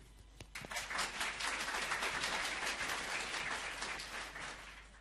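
A crowd claps steadily for about five seconds to welcome a speaker named Steve at a talk on organisational learning. The applause is dense and sustained, rising quickly and then holding at an even level with no voices.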